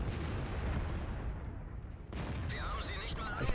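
Tank cannons fire in the online game World of Tanks, a dense stream of booming blasts and rumbling impacts followed by a sharp crack and ringing metallic tail, with someone talking over the battle.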